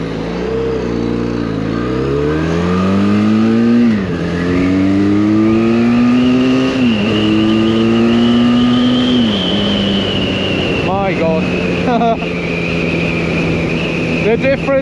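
A 2024 Benelli Leoncino 500 Trail motorcycle accelerates hard to 60 mph, its loud engine note climbing and dropping through several gear shifts before settling into a steady high cruise under wind noise.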